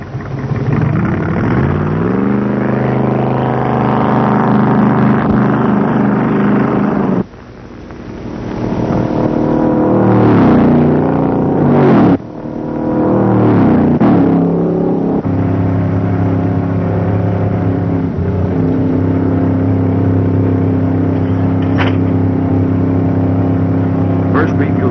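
A 1960 Buick Invicta pulls out of the pit on a racing track, its engine droning loud and close with a brief dip and surge as it accelerates, steady engine roar continuing throughout.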